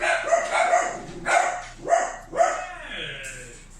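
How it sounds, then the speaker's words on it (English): A dog barks in a quick series of sharp, fairly close yelps, four or five barks with short gaps, overlapping with background noise. "Barking at whatever passes by."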